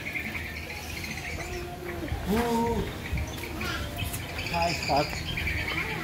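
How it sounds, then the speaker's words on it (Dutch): Artificial birdsong from fake birds at Disneyland Paris chirps in several short, tonal bursts over steady crowd ambience, with people talking nearby. "Dat zijn nepvogels"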